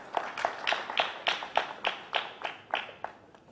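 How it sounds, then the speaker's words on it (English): Sparse clapping at a credit union meeting, about a dozen distinct evenly spaced claps from just a few hands, close and clear with no talk over it. "A round of applause,"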